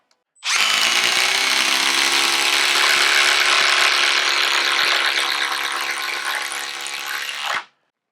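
A 12-volt impact driver sinks a 6-inch Spax screw in one loud, sustained burst of rapid hammering impacts lasting about seven seconds, then stops abruptly.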